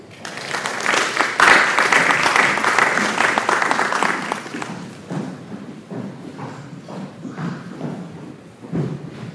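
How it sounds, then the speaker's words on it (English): An audience applauds at the 100 Most Influential Young Leaders in Africa 2023 event, loud dense clapping that swells early, then thins into scattered claps and fades with a few last bursts. "I please ask you to give him another round of applause"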